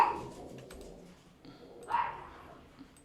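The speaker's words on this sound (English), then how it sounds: "You gonna go bark? Go bark." A dog in Civilization VII gives a couple of short barks and yips, moderately close, separated by a brief pause over quiet background.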